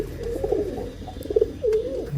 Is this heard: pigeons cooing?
yes